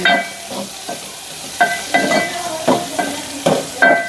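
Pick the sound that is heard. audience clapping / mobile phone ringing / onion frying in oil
onion frying in oil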